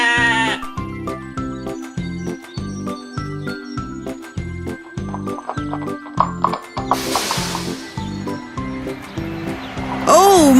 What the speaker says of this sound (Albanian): Edhe një dele?